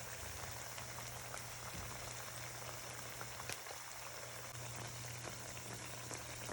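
Saltfish fritters fry in a pan over medium heat, giving a steady, continuous crackle and bubbling of oil that stays even throughout, with a faint low hum underneath and no talking.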